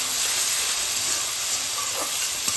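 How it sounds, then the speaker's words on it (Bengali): Shrimp frying in oil gives a loud, continuous hiss and sizzle, close and unbroken for a few seconds with no voices. "এবার আমি এই চিংড়ি মাছটা 1 মিনিটের মতো ভাজবো, দেখি যেন ওভারকুক না হয়ে যায়।"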